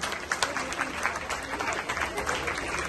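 An audience at a Women's Day gathering breaks into sustained, dense applause, steady and moderately close throughout.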